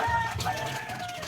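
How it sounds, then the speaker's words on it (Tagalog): Young chicks between one day and one week old peep in a close brooder with high, thin cheeping calls that overlap in a quick, busy chorus. "Bali ito yung mga sisiw natin."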